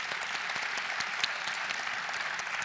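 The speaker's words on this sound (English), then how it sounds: "Give Peggy a round of applause." Seated audience gives a round of applause for a speaker at a foundation event, a short burst of steady, moderately distant clapping with occasional sharper individual claps standing out.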